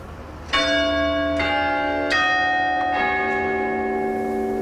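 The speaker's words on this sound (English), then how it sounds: "The chimes of Great St Mary's Church sound like they have been copied from Big Ben at Westminster" Quarter chimes of Great St Mary's Church in Cambridge ring out a slow sequence of four or five resonant chimes, each struck note overlapping the lingering hum of the previous one.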